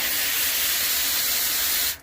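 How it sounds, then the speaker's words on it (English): A handheld water sprayer washes the fins of an outdoor air conditioner unit, giving a close, loud, steady hiss that runs almost the whole way before cutting off at the end. "now I'm just going to take a sprayer. It sprays like this."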